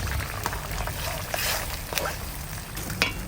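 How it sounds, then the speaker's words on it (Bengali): Fried spice paste sizzles in a curry pan in a short burst of crackling and hissing, close and fairly loud, with scattered pops. "ভাজা মশলার বাটাটা দিয়ে দিচ্ছি।"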